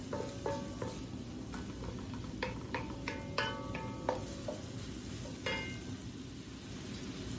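Ingredients for fried rice sauté in a pan, a soft low sizzle broken by scattered light clinks and scrapes of a utensil against the pan at an irregular pace.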